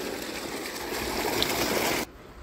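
Fresh water flows out of the ground, a close steady gushing trickle that runs evenly and then abruptly cuts off near the end.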